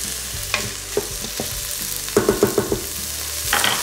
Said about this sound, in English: Let that saute just for a minute or 2 until the onion looks nice and translucent.